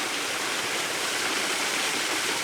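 Steady, full-bodied rush of a waterfall pouring over wet rocks among ferns and moss, a continuous broadband roar at close range with no voices.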